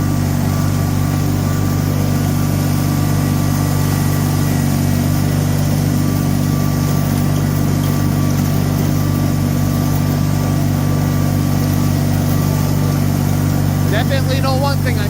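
Steady engine drone of a vehicle idling and driving slowly around a yard with melting snow, a low continuous hum throughout with a voice talking over it.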